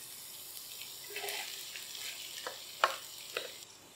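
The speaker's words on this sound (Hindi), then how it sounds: "अब इसमें कटे हुए प्याज डाल देंगे," Chopped onions go into a pan with ginger and garlic for dhaba-style chicken bharta, giving a faint soft sizzle broken by a few sharp clinks and stirring scrapes.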